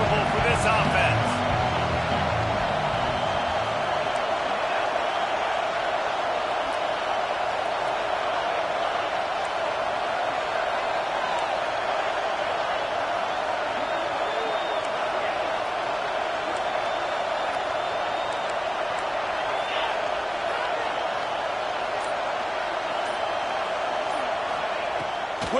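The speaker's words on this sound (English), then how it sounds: "This crowd trying to make life miserable for this offense." A college football stadium crowd at an Arkansas versus Washington game, a constant loud roar with no breaks, heard under a commentator's voice.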